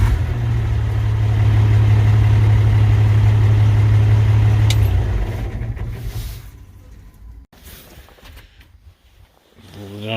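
John Deere 6068 diesel engine on a log loader, loud steady idle that abruptly cuts out midway, leaving quieter intermittent rustling and handling sounds close by.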